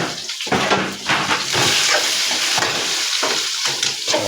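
Sliced onions sauté in hot oil with curry leaves for a chicken curry, a loud continuous sizzle broken by scraping stirs of the pan, close and without talk.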